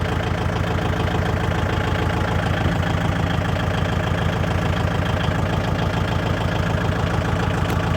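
A tractor engine idles in a steady, continuous low rumble with an even rhythmic chug throughout, close and moderately loud, with no talking over it.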